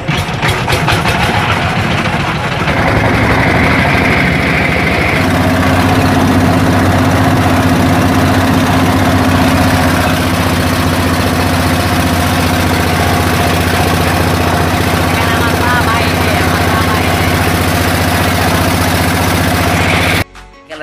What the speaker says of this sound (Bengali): কিছুক্ষণের মধ্যে স্টার্ট দিচ্ছে ট্রিমারটা স্টার্ট দিচ্ছে